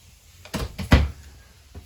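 A kitchen drawer in a 2022 Wildwood 33TS travel trailer slides open with a couple of quick thuds and a rattling scrape, close by and moderately loud in a quiet room.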